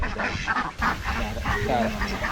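Chara ducks, a Kuttanad duck breed, quack and honk in a loose, repeated series of calls, fairly close, with a voice talking over them at times.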